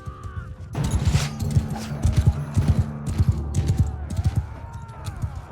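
Horse hoofbeats in the Mount & Blade II: Bannerlord video game, a fast run of clip-clop thuds through a noisy battle with crashes and clatter, loud and close, broken by brief vocal sounds.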